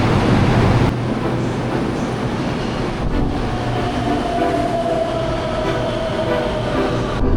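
A Hong Kong subway train rumbles steadily into a station, its wheels clattering on the rails and a rising metallic whine joining in as it approaches.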